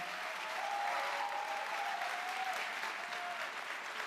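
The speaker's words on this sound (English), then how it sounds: "One final round of applause for our speakers." Sustained applause from an evening event audience after a question-and-answer session with speakers, a steady dense wash of clapping at even loudness throughout with no one talking over it.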